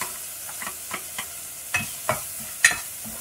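Garlic and onion sautéing in a pan for chicken adobo, a faint sizzle beneath a series of light spoon scrapes and taps, close and quiet with no talk.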